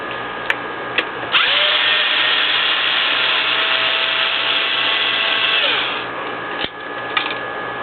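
A power driver with a T15 bit whirs steadily for about five seconds while backing screws out of the front end of a Traxxas Slash 2WD RC truck, close and loud, with a few sharp clicks before and after.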